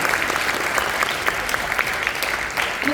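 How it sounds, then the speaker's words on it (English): Audience applause at a high school spring concert and awards event, a steady, fairly dense wash of clapping from a crowd, continuous and moderately loud with no talking over it. "Can we give these two guys a big round of applause here?"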